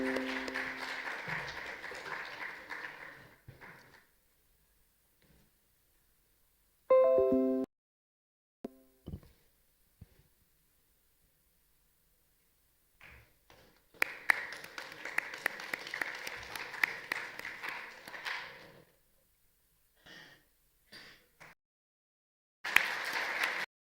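An audience at an intellectual property rights workshop applauds in two main bursts of clapping, each lasting several seconds, separated by near silence and a few isolated sounds, with a short final burst at the end.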